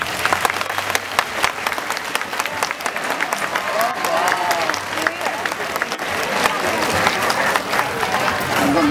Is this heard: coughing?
no